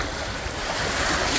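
Sea waves crash and churn in a steady, loud broadband roar on a stormy shore, with wind buffeting the microphone throughout and no voices.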